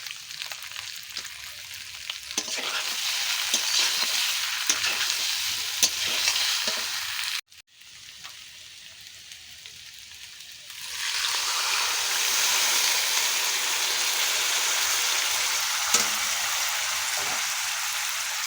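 Small fish fry with spices in a pan, sizzling with occasional stirring scrapes; the sizzle briefly drops out, then returns louder and steadier.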